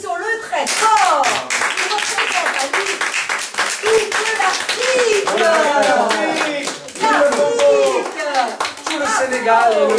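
Audience applause at a Catholic religious gathering, close, sharp hand claps in uneven bursts mixed with cheering and excited voices, including children, throughout.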